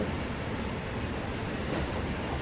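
Trains in the video game Transport Fever run with a steady, loud rolling rumble of wheels on rails and a thin high squeal, continuous throughout with no talking.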